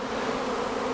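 Honey bees hum steadily at their hives, a close, continuous droning buzz with no voices.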